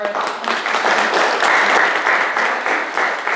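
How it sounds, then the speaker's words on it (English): An audience at a young artists' music recital gives a round of applause for the donors, a full, steady roar of many hands clapping in a hall. "have a round of applause for all of our donors"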